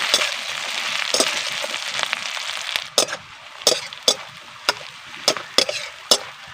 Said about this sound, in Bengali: এবার আদাকেও ভেজে নেব তবে আদাকে কিন্তু খুব বেশিক্ষণ ধরে ভাজবো না